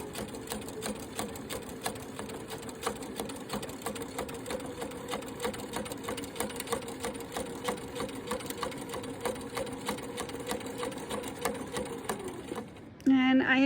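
Sewing machine stitching quilt binding runs in a steady, fast mechanical chatter for about twelve seconds, close and continuous, stopping abruptly near the end.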